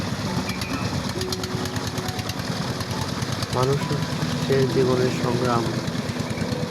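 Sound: fishing boat engine running on the Jamuna river

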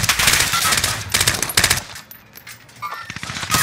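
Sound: gunfire in the video game Call of Duty Warzone

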